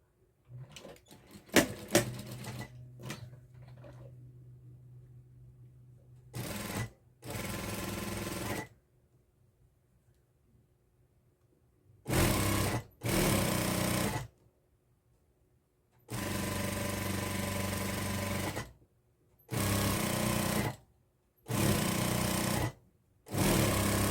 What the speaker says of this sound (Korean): 이제 끈을 박음질 할 건데요.